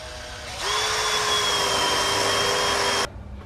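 A power drill bores a hole into a metal bar on a Cushman Hauler Pro golf cart, a steady close whine that starts abruptly, holds for a few seconds and cuts off.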